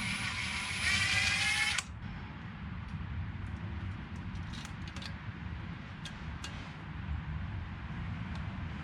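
A power tool buzzes loudly for about two seconds while backing out the last differential cover bolt on a Jeep JK, then stops, leaving a low rumbling background with a few faint metallic clinks.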